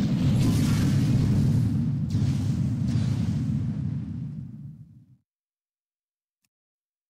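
Thunderbolt skill blasts from the video game Micro Defense Force give a dense, rumbling explosion with crackling bursts, holding loud for several seconds before fading away into silence.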